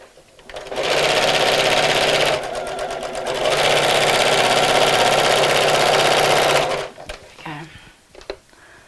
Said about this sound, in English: So again, stop with the needle down if you're going to stop, and pivot around. And then sew back down here.